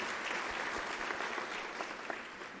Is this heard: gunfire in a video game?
no